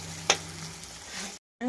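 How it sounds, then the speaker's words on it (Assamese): Onions frying in oil left over from frying fish hiss steadily in a pan, with one sharp utensil clack early on, then a brief silent gap before the sizzle resumes. "এয়া মই মাছ ভজা তেলতে মই পিঁয়াজখিনি দি দিছোঁ"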